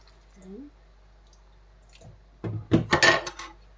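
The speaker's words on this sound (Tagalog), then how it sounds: "So, ngayon mag-add na ako ng sabaw, tubig. Para sa aking sauce." Broth and water pour into a pan while making spaghetti sauce with ground meat, potatoes and carrots, giving a short wet splashing burst with clatter that follows a quiet stretch of faint kitchen sounds.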